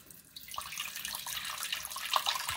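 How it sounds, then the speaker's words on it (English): Water runs from a tap into a blocked sink, a soft steady trickle and splash that builds slightly over a few seconds. "even though we don't have too much of a flow of water, it's started to back up really quite quickly"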